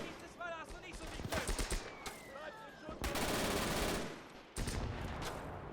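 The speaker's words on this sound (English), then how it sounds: "The German mortar firing for full effect there on the right side." German mortar fire in the WWII strategy game Gates of Hell during a street battle, with repeated sharp booming blasts and a long rumbling volley amid dense battlefield gunfire and chatter, loud and close.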